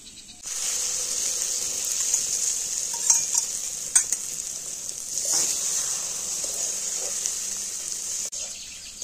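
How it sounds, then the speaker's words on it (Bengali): Beaten eggs are stirred into frying onion and grated potato, with a constant bright close sizzle and intermittent scraping strokes of the spatula over nine seconds. "ভালো করে নাড়িয়ে চাড়িয়ে ডিমটা একদম ডিমের ভুজিয়ার মতন করে নেব"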